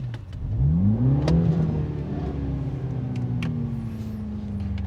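Mini Clubman John Cooper Works (F54, 306) engine pulling hard under acceleration, a loud close rising drone that sweeps up through the revs then settles into a steady high cruise tone, with no talk over it.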